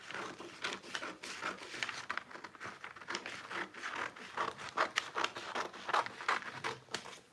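Scissors cutting fabric for an off-shoulder top with flutter sleeves, making soft, close crinkling snips in a steady run with no voices.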